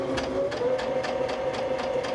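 A sewing machine stitches quilt fabric in a fast, even rhythm of whirring pulses, close and steady throughout.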